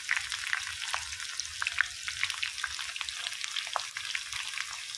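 Cumin, mustard seeds, dried chillies and garlic frying in hot oil for a tomato pickle, a steady dense crackle and sizzle with scattered sharp pops throughout, close and alone.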